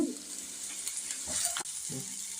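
Onions fry in a pan for masala egg noodles, giving a steady, close hiss of sizzling oil broken by a few soft scrapes from stirring.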